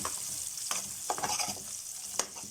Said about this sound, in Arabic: طبعا نزلنا معلقة زيت، بصلاية كده